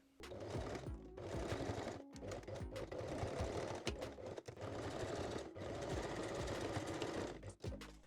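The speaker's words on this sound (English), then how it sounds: "I'm using just a small zigzag stitch." A sewing machine runs a small zigzag stitch on a foam cup bralette, whirring steadily and close in fast rhythmic bursts with brief pauses.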